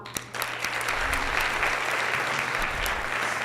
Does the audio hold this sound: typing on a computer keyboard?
no